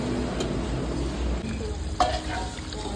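Pabda fish frying in hot oil in a pan, a dense continuous sizzle close by with a brief scrape of stirring partway through.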